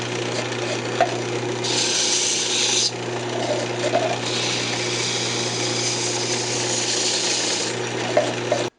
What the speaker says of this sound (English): I'm just going to go ahead and sand it up now